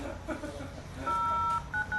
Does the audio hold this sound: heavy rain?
no